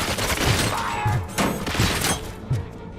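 Gunfire from the video game Robocop Rogue City, with heavy repeated shots and impacts landing about every half second, loud and close, mixed with crashing debris.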